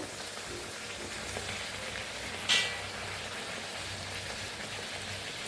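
Jackfruit seeds fry in a pan with jaggery, giving a steady close sizzle throughout, with one brief louder scrape of stirring near the middle.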